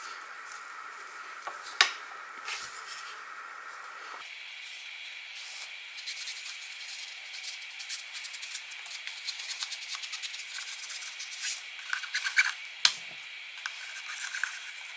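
Soft scratchy rubbing of Vintage Photo ink onto paper edges, a continuous faint brushing texture with scattered light taps and clicks, quiet and close with no talk.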